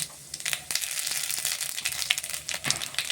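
Eggplant sizzles and crackles in hot oil with bay leaves, cumin and radhuni spice. It makes a close, continuous frying hiss with irregular pops and spatters throughout.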